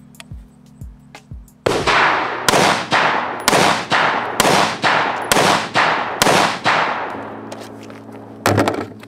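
A Cox Arms Guardian rifle fires five loud, sharp rounds outdoors at about one-second intervals, each shot followed by a ringing decay. A final single report comes near the end, and soft clicks and handling sounds come before the first shot.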